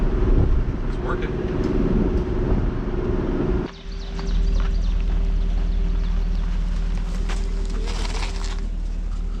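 A half-ton pickup with a 6-liter engine labors uphill hauling about 9,500 pounds of stone, a steady low engine drone and rumble throughout, with people talking over it.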